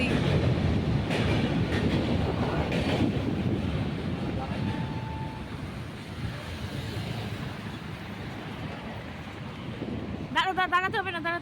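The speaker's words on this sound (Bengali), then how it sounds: "এখন যাচ্ছে ট্রেন।" A train rumbles across Bally Bridge in a broad, continuous roar mixed with wind buffeting the microphone, with a brief horn-like tone midway and chirping whistles near the end.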